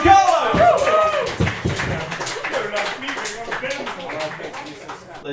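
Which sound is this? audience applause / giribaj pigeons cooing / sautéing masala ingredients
audience applause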